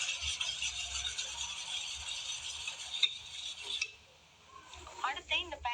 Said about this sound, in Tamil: ஒரு விஸ்க் வச்சு நல்லா கட்டி இல்லாம கரைச்சுக்கோங்க